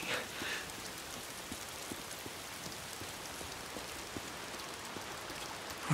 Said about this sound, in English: Oh, damn rain.